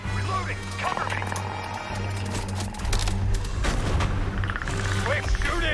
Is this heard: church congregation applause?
no